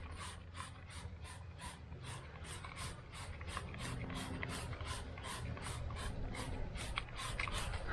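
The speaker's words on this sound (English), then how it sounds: "and then I spray them down with some wheel cleaner." Repeated rapid hissing spritzes from a trigger sprayer applying wheel cleaner to a Toyota GR Corolla's wheels, fired in quick bursts close by, with a steady rhythm throughout.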